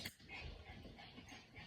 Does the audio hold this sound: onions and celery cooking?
no